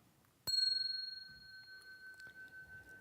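A Buddhist bell is struck once, a clear ringing tone that sustains and slowly fades with a gentle wavering pulse, then a faint second touch sounds briefly.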